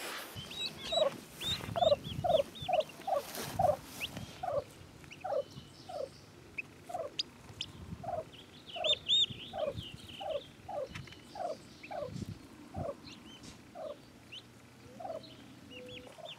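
A turkey hen near her nest, giving a long series of evenly spaced, fairly faint gobbling and clucking calls that continue across the whole stretch with only brief pauses, heard alone without talk.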